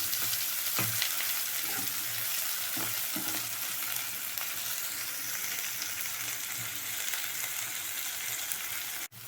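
Ingredients for a Tamil green gram kadaiyal fry in hot oil until reddened, giving a steady loud sizzle with occasional stirring taps in the pan.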